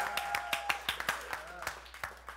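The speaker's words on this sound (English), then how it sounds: "Give yourselves a big round of applause." A small crowd at a comedy show claps, sharp, separate hand claps coming in an uneven rhythm, fairly close and moderately loud, with a faint tone sounding briefly underneath.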